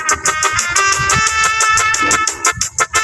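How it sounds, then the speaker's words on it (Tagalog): Loud, dense music with a rhythmic beat plays steadily from a phone set on an induction speaker, slightly boxy and amplified as if pushed through a small speaker. "para mapalakas lang yung tunog ng cellphone mo"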